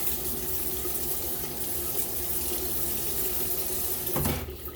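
A bathroom tap runs in a steady, close stream while someone gets ready to shave, the flow cutting off near the end with a brief clunk.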